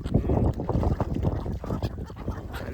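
Several birds honk and quack in quick, overlapping bursts nearby, a busy, irregular chorus of waterfowl calls.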